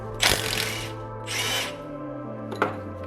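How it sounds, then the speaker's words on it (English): A wrench working a 16mm nut on a BMW 335i sway bar end link gives two short bursts of ratcheting clicks and a brief metallic tap, close up, over a steady low hum. "start by removing this 16mm nut here that holds the sway bar end link on"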